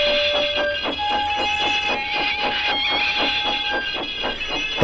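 Train hauling old coaches, a steady rumbling roll with regular clickety-clack wheel beats and a sustained tonal hum, loud and continuous with no voices.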